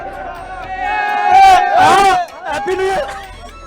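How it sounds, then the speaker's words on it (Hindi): Devotees crowd a temple on Maha Shivratri, loud massed voices chanting Shiva slogans in rising, overlapping waves of call and response close by. "शिव के जयकारे लगाते हुए"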